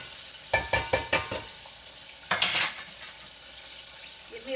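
Crappie frying in a pan sizzles steadily in the background while a utensil clinks and scrapes against the pan in a quick run of four or five knocks, then another short cluster.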